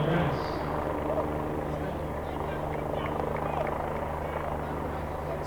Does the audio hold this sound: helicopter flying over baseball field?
yes